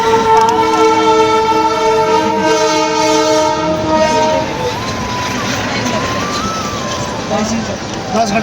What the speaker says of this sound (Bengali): এই যে সামনে আরো একটা ট্রেন যাচ্ছে, এই ট্রেনটা দেখো